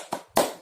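A classroom doing the tepuk semangat chant claps twice, close by: a softer clap followed by a louder, fuller one, with no talking over them.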